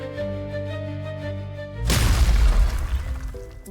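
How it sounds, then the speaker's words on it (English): An explosion in the video game Morphean Paradox booms abruptly across a street after sustained musical tones, releasing a deep rumbling blast that rolls on for over a second before fading back into quieter game sound. "A violent explosion rocks the street, sending smokes and dust billowing as onlookers scattered in every direction."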